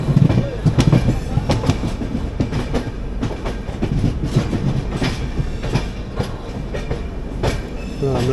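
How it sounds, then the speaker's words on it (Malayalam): A Trivandrum–Chennai AC superfast train rolls into the Chennai Central yard, with a steady rumble and rhythmic clickety-clack of wheels over rail joints, loud and close throughout. "നമ്മൾ ജസ്റ്റ് ചെന്നൈ സെൻട്രലിലോട്ട് കയറുകയായി"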